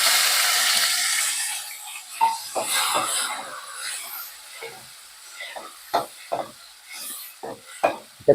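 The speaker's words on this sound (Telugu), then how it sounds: "కొంచెం పచ్చిమిర్చి బాయిల్ కావగానే ఇందులో టమాటా అయితే వేసాను, ఇవి కూడా కొంచెం బాయిల్ కావాలి. మంచిగా కలుపుకోవాలి." Green chillies and tomatoes cook in a pan, giving a soft sizzle that fades away, broken by repeated scraping stir strokes that come in short, uneven bursts, close and fairly quiet.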